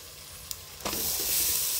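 Finely chopped onions hit hot oil with turmeric for a Kerala-style mutton curry, a sharp hiss rising into a steady, close sizzle that carries on alone without speech.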